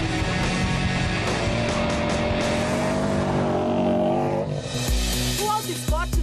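A car accelerating on a test drive, with an engine roaring and rising in pitch through the gears, close and loud, then a quick shift to a fresh high-revving burst near the end.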